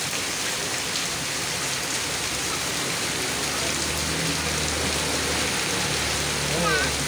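Steady heavy rain pours over a truck outdoors, a dense broadband hiss that fills the whole stretch, with faint voices underneath.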